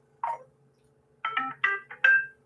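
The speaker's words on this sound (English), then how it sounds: "But you can hear that notification." A short electronic phone notification chime plays: a single soft blip, a pause, then a quick run of four bright tones, with nothing else in the background.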